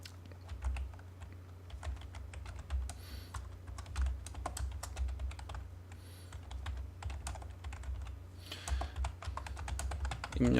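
Typing on a computer keyboard to enter a distance value for the AutoCAD Offset command: steady, close, irregular key clicks with a few louder strokes, and a voice speaks over them.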